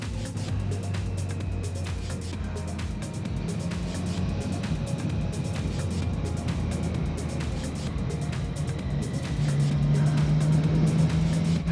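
Triumph Street Triple 765 R motorcycle, restricted to 35 kW, ridden on the road with steady engine drone and wind rush, the pitch lifting slightly near the end as the rider accelerates.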